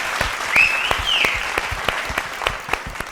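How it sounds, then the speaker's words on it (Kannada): Loud applause from the studio audience of a Kannada singing reality show on TV, dense continuous clapping that stays strong throughout, with a brief whistle near the start. "ಜೋರಾದ ಚಪ್ಪಾಳೆ ಬರಲಿ"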